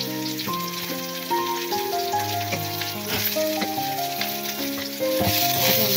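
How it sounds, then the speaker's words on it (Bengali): Onions frying in hot oil for a Bangladeshi magur fish kalia, a steady close sizzle and crackle with faint background music, no talking. "পেঁয়াজগুলোকে লাল লাল করে ভেজে নেব।"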